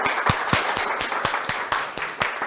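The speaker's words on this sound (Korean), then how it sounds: "여러분, 자, 큰 박수 부탁드릴게요." Rhythmic clapping from an audience at a Zhiyun Crane 4 gimbal launch seminar, a steady run of crisp, close hand claps at a fairly even pace that holds through the whole stretch.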